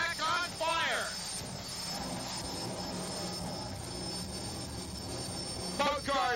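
Jet-powered drag race cars with Westinghouse J34 jet engines and afterburners burning raw jet fuel roar loudly and steadily at the strip, with an announcer's voice briefly audible at the start and end.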